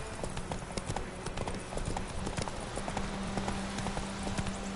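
A horse gallops in The Witcher 3: Wild Hunt, with dense, quick hoofbeats drumming continuously over a low ambient game soundscape.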